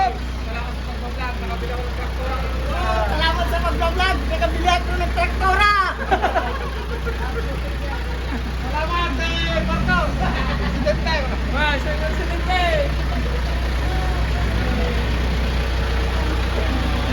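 Jerry's new vehicle idles with a low, steady engine rumble close by on a farm, while several people chatter and laugh over it throughout.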